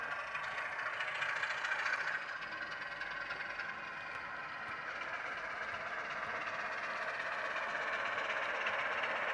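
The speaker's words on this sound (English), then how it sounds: "A Class 37 arrives with the daily cement train of empties from the Shortley Bridge direction for loading." Model Class 37 locomotive arriving with a cement train of empty wagons on a layout, a continuous faint clattering and rattling of wheels on track with no engine note standing out.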